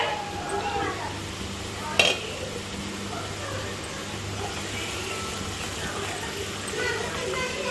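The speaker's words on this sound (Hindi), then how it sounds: "ये हमारा अदरक, लहसुन और जीरा का पेस्ट है। अब इसे डालकर हम अच्छे से भूनेंगे" Ginger, garlic and cumin paste fries in a pan for a chana aloo curry, a faint steady sizzle with a single sharp clink of a utensil near the start, while someone talks over it.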